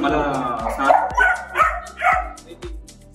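A dog in a pet shop barks in a quick series of about five sharp, close barks spaced roughly half a second apart, with voices murmuring in the shop around them.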